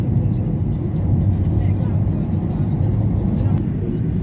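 Road noise inside an SUV riding through the Italian countryside near Caravaggio, a steady low rumble and whir of tyres and engine that holds continuously throughout with faint hiss above it.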